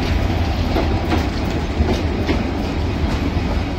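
Train number 253 pulls into Tarakandi railway station at night, with loud rolling wheels and rhythmic clickety-clack over rail joints sounding close and continuous.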